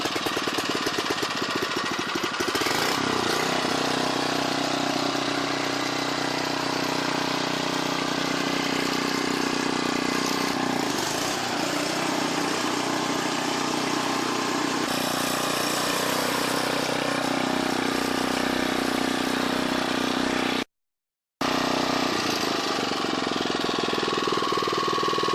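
A Predator engine fitted to a McLane reel lawn mower idles steadily with a dense, rattling mechanical chatter, close and continuous, with one brief dropout near the end.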